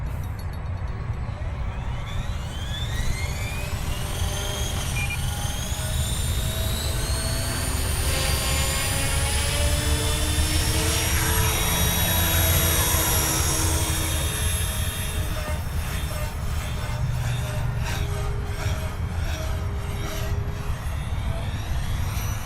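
A hobby-grade Align T-Rex 500X RC helicopter winds up and flies, its high motor whine rising in pitch over a steady loud rotor drone that holds close and continuous throughout.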